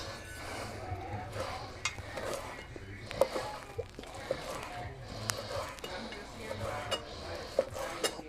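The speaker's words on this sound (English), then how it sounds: "And now Let's slice that steak." A knife slices through cooked steak on a board, making sharp, intermittent taps and clicks against a faint background of kitchen sizzle while a person talks.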